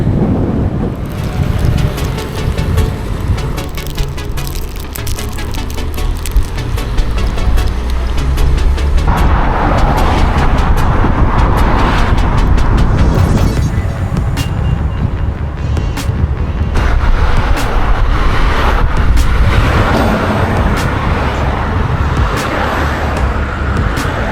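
Continuous broadband road traffic and wind rush from a bike ride out of Portsmouth at rush hour, a steady roar of passing cars and wind buffeting the microphone throughout, loud and close.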